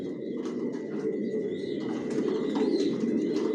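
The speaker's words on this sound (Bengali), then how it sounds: "এখানে যে কবুতরগুলো দেখতেছেন এগুলো আমার মাস্টার পেয়ার, রানিং পেয়ার।" Racing pigeons in a loft coo in soft, repeated low calls, with scattered chirps and a brief flutter of wings, close and continuous.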